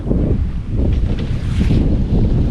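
A sailboat moves through the Swedish archipelago, with strong wind buffeting the microphone in a loud, continuous low rumble and soft water wash beneath it.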